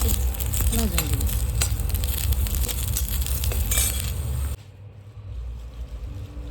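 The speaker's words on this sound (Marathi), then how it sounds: "त्याच्यातच आपण आता 2-3 हिरव्या मिरच्या टाकूया. त्या आपण व्यवस्थित भाजून घेऊया." Two or three green chillies sizzle and crackle steadily in a pan with roasted coconut, loud and close, before the frying sound abruptly drops to a quieter hiss.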